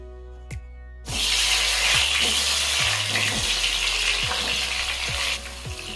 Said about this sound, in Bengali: এবারে এই তেলে আমি পটলগুলো ভেজে নিচ্ছি